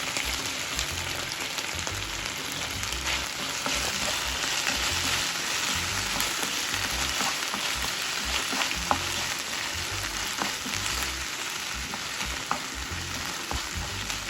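Chilli chicken stir-fries with soy sauce and red chili sauce, a loud continuous sizzle with scraping stir strokes, close and unbroken throughout.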